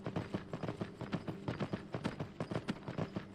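Horse hooves clip-clop in Skyrim VR, a steady trotting rhythm of distinct knocks repeating about three or four times a second, moderately close but not loud, with no speech.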